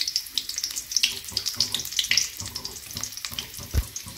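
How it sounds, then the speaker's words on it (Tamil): Onion and curry leaves fry in hot sesame oil for a chicken kurma, a crackling, spattering sizzle with irregular pops and a few soft thumps of a utensil. "வெங்காயம் வந்துட்டு நல்லா ஃப்ரை ஆகட்டும்."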